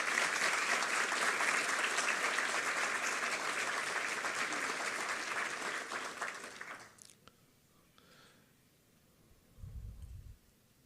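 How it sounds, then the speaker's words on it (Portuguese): Dense applause for award recipients at a formal ceremony fills the room for about seven seconds, then stops abruptly. Quiet room noise and a low thump follow. "Uma salva de palmas aos nossos agraciados"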